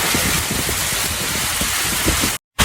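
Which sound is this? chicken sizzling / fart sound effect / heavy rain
heavy rain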